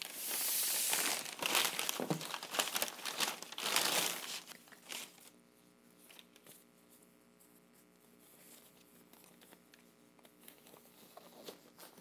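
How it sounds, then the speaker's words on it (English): Packing paper is crumpled and spread over a worktable as the surface is covered before mixing epoxy: about four seconds of loud, close crinkling and rustling, then quieter scattered handling noises. "adding some packing paper to my table so"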